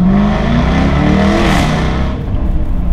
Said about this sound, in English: this crazy acceleration sound or pops and bangs